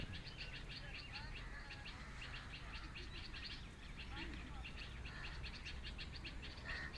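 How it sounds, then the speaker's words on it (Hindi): Birds chirp and tweet faintly in the distance over a steady outdoor background hum, with repeated short calls throughout. "अभी आप अपने आसपास ये जो चिड़ियों की आवाज़ें हैं, परिंदों की आवाज़ें हैं, ये सुनिए।"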